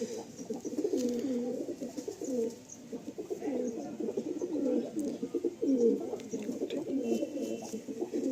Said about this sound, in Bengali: এই সমস্ত পায়রাগুলো আমার ঘরেরই পায়রা